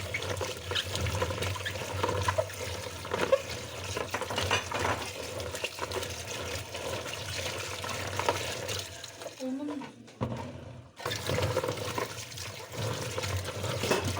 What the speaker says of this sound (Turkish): İncirimizi yıkıyoruz bol suda.